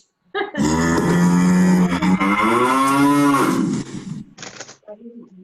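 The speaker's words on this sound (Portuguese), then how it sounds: "Vaca." A cow moos once in a long, loud, drawn-out call lasting several seconds, heard up close and on its own, followed by a few faint trailing sounds.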